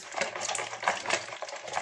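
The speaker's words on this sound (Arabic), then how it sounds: "هجيب بولة وهنزل كده بالبيضة بسم الله، وهبدأ بقى اقلبها كويس" An egg being stirred in a bowl, giving a steady run of close, light scraping and clicking strokes with no talk over it.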